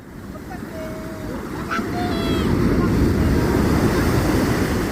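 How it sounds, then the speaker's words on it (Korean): Waves break and wash onto Sokcho Beach in Gangwon-do, a broad rushing surf that grows louder, with wind buffeting the microphone and faint bird calls above. "파도가 깨칩니다."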